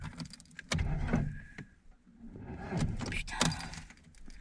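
An old family car, Mom's car, is cranked on a cold morning and won't catch, its starter groaning in two loud bursts with a short pause between, close by and with no talk.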